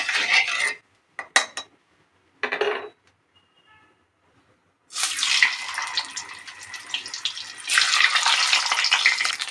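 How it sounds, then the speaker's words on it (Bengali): Scattered short bursts, a few seconds of quiet, then a loud continuous hissing sizzle as an egg hits hot oil, swelling again near the end. "তেলটা গরম হয়ে গিয়েছে এর মধ্যে আমি ডিমটা দিয়ে দেবো"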